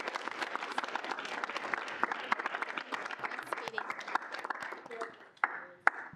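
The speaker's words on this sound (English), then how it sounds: "give them a round of applause" A student senate meeting gives its new senators a round of applause: scattered hand clapping from a modest group indoors, fairly quiet, thinning out toward the end with a few last isolated claps.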